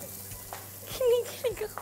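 An egg fries in a small amount of butter in a pan, giving a soft, steady sizzle with a few brief voice sounds over it.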